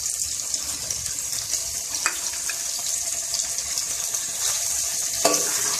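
Potatoes and tomatoes fry in a pan while being stirred, giving a steady broadband sizzle with a couple of sharper scrape accents, close and continuous with no talking.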